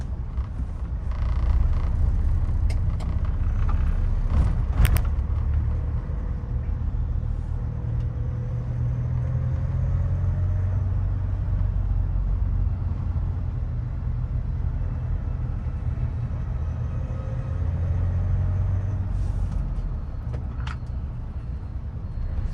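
A Mahindra Scorpio Classic with its 2.2-litre mHawk diesel engine driving on city roads: a steady low engine rumble and road drone inside the cabin, with the engine note rising gently twice as it accelerates.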